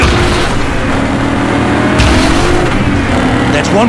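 A car engine in the Cyberpunk 2077 video game roars loud and steady at high revs through the whole stretch, with a brief surge partway and voices speaking over it.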